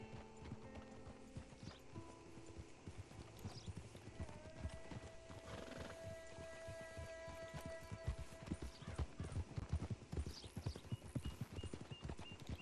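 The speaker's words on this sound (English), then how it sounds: "I was trying to get my horse to pick up speed" Horse hooves clip-clop in a steady trotting rhythm in the video game Red Dead Redemption 2, close and continuous, with creaking tack and a faint whinny in the background.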